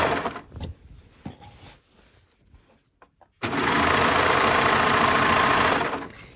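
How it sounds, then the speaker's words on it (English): A sewing machine stitches the front seam hem of a McCall's 8358 wrap dress: quiet handling and faint taps first, then the motor starts up into a loud, steady, continuous run for the last three seconds. "So I'm starting here with the front seam hem, and I'm going to stitch all the way around."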